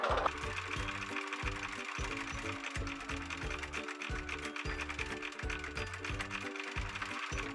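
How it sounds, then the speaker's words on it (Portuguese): A sewing machine stitches a dart in fabric with a small stitch length, giving a close, fast, steady mechanical chatter broken by short pauses as the needle stops and restarts. "Com cuidado, vira e costura exatamente em cima do risco."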